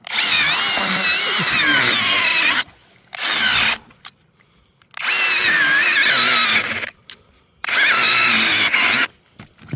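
A cordless power saw cuts through thick winter ice for fishing, loud and close, in four long whining bursts of a few seconds each, separated by brief quiet pauses.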